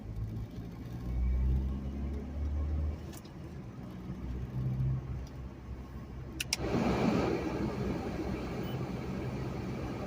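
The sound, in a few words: car heater and defroster fan running in cold car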